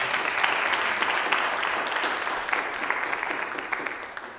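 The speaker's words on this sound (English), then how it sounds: "Let's give him a round of applause." Church congregation applauding during a Baptist service, a steady wash of clapping that holds fairly even for several seconds and eases slightly toward the end, with no voice over it.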